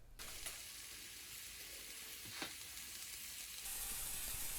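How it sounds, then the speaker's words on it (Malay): Onions sauté in hot oil for sardine rolls, giving a soft, even sizzling hiss with a faint stir partway through. "Kemudian panaskan minyak dan tumiskan bawang besar."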